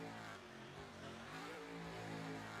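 A drag-racing truck launches off the starting line at a Loud Pedal round, its engine a sustained low roar with stacked harmonics that holds steady and strong for the whole stretch, with no talking over it.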